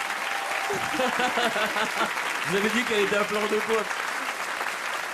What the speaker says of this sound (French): On peut l'applaudir très fort, Laetitia Milo